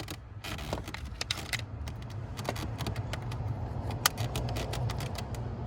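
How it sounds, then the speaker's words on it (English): The plastic fuse box cover on a Toyota Sienna is fitted back in place, with a run of light plastic clicks and rattles over a low steady hum and one sharper snap partway through. "you just line it up, and then click right here"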